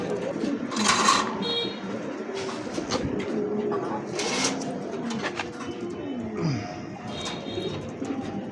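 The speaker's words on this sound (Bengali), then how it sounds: "প্রিয় দর্শক এই মুহূর্তে দেখতে পাচ্ছেন সিঙ্গেল একটা মন্ডিয়ান কবুতর" Mondain pigeons in Andalusian colouring cooing repeatedly at close range in a pigeon dealer's loft, soft throaty coos mixed with chirps and rustling while someone talks over them.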